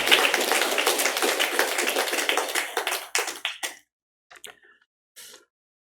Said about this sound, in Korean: 우리 다시 한번 힘차게 축하의 박수하겠습니다.